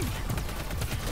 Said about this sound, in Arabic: قاعد اطلق عليه.